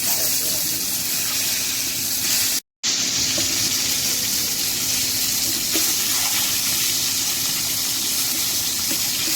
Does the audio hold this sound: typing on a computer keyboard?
no